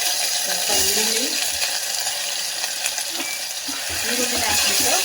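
Onions and green chillies frying and being stirred in a pan for a ridge gourd palya, with a steady sizzle under faint spatula scrapes that run through the whole stretch.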